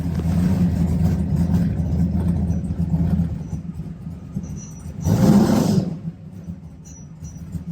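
A Plymouth Belvedere engine runs with a steady, rumbling idle, then revs briefly and loudly before settling back to idle. No one speaks.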